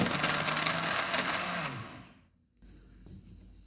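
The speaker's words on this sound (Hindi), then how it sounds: "एक दफ़ा ब्लेंड करने के बाद आइस क्यूब्स डालेंगे और दोबारा इसको ब्लेंड करेंगे।" Electric blender whirring through yogurt, sugar and salt for sweet Punjabi lassi, running loud and steady before winding down and stopping, followed by a quieter electrical hum.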